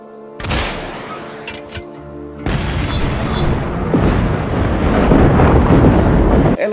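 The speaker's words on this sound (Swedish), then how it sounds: "Alldeles för stora explosioner." Massive explosions from the action video game Just Cause 3 boom loudly one after another, with a deep rumbling blast early on and a sustained roaring wall of detonations and debris afterward.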